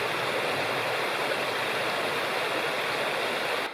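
The Bald River rushes beside a campsite, a steady broadband roar of flowing water at close range, continuous and unbroken before cutting off at the end.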